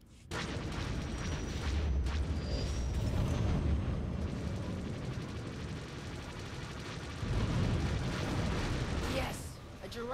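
A missile strike in a gunship combat video game lands as heavy rumbling booms and blasts. They roll on continuously at a low level over battle noise while voices talk.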